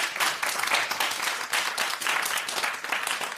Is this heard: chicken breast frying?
no